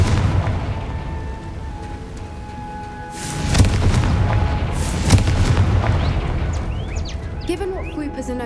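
A fire-blast spell in Hogwarts Legacy goes off as a loud booming burst over a rumbling game backdrop, followed by further crackling blasts and fluttering creature noises, with a voice calling out before the blast.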